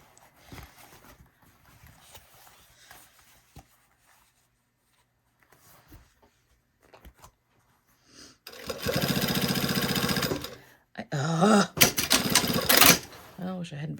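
A sewing machine stitches a seam on a Style Arc Ziggi garment, one loud steady burst of several seconds, then a short pause and a second choppier run like backstitching. Soft talk comes before it.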